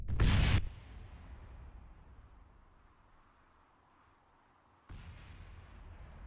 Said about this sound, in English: I hear other stuff exploding there.